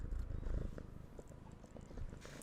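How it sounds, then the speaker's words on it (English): A house cat purring close to the microphone, a soft continuous rumbling flutter with gentle pulses, alone without talking. "My cat has come to say hello."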